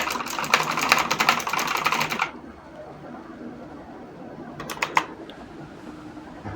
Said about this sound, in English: So the same way, I'll continue typing.